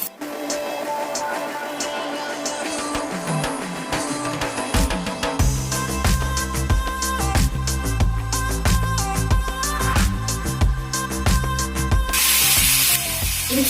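Chopped tomatoes tipped into a pan of cooked onions for chana masala, a clatter of pieces dropping in followed by steady loud sizzling and frying crackle with utensil scrapes.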